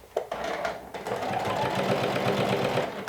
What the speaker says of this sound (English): So you're stitching a rectangle right now.